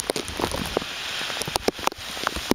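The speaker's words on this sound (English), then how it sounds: "Alright, now it's raining pretty good." Rain from Hurricane Isaac in southern Alabama falls steadily in a dense hiss, with close, sharp drops pattering on a bag or surface, and no voices.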